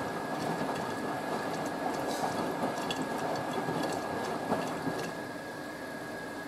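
A Hotpoint WD640G Aquarius+ washing machine filling with water, a steady rushing, hissing flow with faint drips and sloshing and a constant high whine, continuous and fairly loud for the whole stretch.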